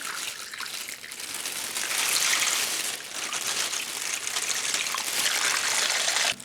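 Water pours steadily into a pan, a bright splashing gush that swells and settles, continuous and close.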